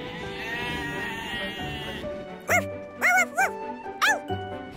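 Cartoon sheep on a farm give several short, wavering bleats in quick succession, loud and close, following a stretch of soft tonal background sound.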